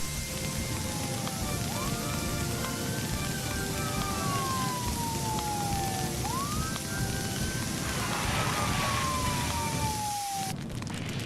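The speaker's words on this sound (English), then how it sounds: "just as the other fire engines arrived" Arriving fire engines sound a wailing siren that sweeps up and down in long repeated cycles, moderately loud over a constant rain-like hiss.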